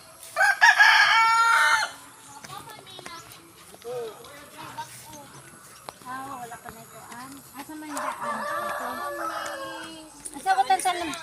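A Rhode Island rooster crows loudly and close on a farm, a long bright crow opening the clip and another near the end, with clucking fowl and scattered voices in between.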